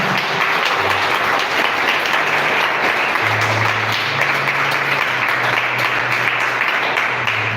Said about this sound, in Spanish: Dale un aplauso a mi Señor.